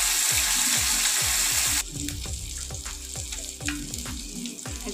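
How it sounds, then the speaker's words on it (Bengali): Small mourala fish frying in oil in a pan, a dense sizzle that drops in level partway through, with repeated knocks and scrapes from a utensil close by. "আমি মাছগুলোকে ভেজে নেব"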